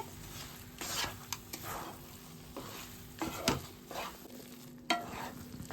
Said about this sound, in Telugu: బెల్లం వేసి కలుపుకుందాము